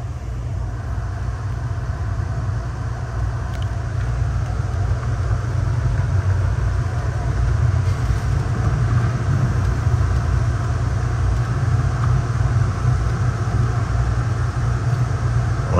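An Amtrak Southwest Chief with two General Electric locomotives and Superliner cars rolls steadily near Kansas City Union Station, a loud continuous low rumble with constant wheel and engine noise throughout, no breaks.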